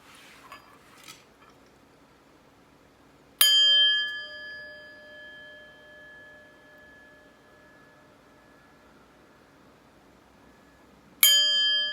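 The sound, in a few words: chime rung before a tarot reading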